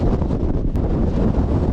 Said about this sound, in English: So unfortunately it's really windy